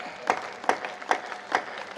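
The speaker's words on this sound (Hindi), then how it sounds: "तालियां बजा दो।" At a Hindi poetry recital, an audience gives a faint round of slow, evenly spaced claps, about five beats in two seconds, heard from a distance.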